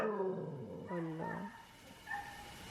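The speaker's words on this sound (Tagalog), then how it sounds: "Hala, umiyak yung aso, Rox." A dog whimpering and crying in a home, with a few drawn-out, wavering whines, close and moderately loud.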